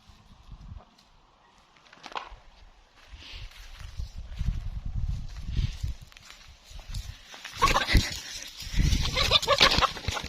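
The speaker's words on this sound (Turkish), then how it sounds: "Tavuklar da çiçek yiyor." Chickens cluck and scratch around nearby, with scattered footsteps and rustling; the activity grows busier and louder toward the end.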